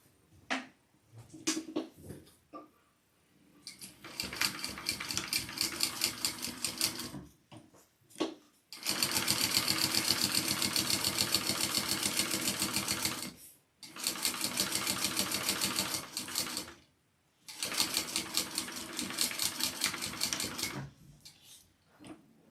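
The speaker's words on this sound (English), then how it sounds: "now I'm going to sew with that 3/8 inch seam allowance" A sewing machine runs in long rapid bursts stitching a 3/8 inch seam on a shoulder bag, with short pauses and a few isolated clicks between runs, close and fairly loud.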